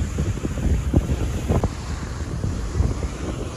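Strong wind buffets the microphone on a stormy Baltic beach at Zelenogradsk, with rough sea and surf churning beneath in loud, gusty bursts throughout and no speech.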